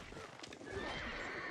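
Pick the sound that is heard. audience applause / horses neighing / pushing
horses neighing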